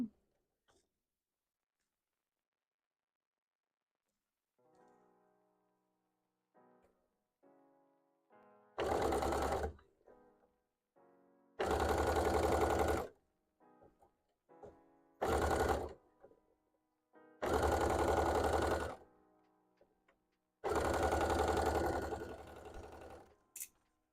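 A small sewing machine that looks like a toy runs in five short bursts of close, loud mechanical whirring, each separated by a quiet pause.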